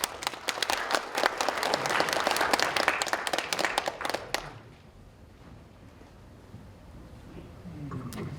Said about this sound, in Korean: 여러분 박수로 환영해 주십시오